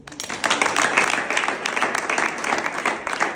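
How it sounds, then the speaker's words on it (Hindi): A large gathering of women applauds loudly and steadily, dense clapping that swells quickly and holds for several seconds, near and energetic. "आप सब अपने सम्मान में जोरदार ताली बजा लें"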